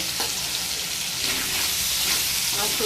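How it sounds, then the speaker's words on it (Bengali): Vegetables fry in a pan for a vegetarian dish, giving a steady, close, loud sizzle with a light scraping stir, and no talking. "এটাকে বেশ ভালো করে ভেজে নেব"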